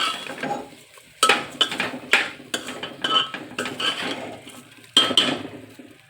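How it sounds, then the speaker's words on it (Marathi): Indrayani rice is stirred and roasted in a pan, with a spoon scraping and clinking against the metal in irregular close strokes over a soft low rustle of grains. "तांदूळ चांगला परतून घ्यायचा."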